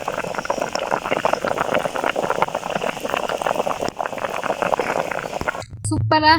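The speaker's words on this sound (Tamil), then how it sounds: "நல்லா கொதிக்கட்டுக்கும்" A pot of village-style seer fish curry with ground spice paste bubbles and simmers steadily with a busy crackling, gurgling texture, then a voice cuts in briefly at the end.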